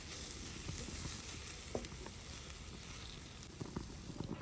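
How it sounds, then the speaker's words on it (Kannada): Chicken frying in a pan without any oil gives a soft, steady sizzle with faint crackles and pops. The sizzling is quiet and close, and nobody speaks over it. "ಇನ್ನು 5 ನಿಮಿಷ ಇದು ಹೀಗೇನೆ ಫ್ರೈ ಆಗಲಿ"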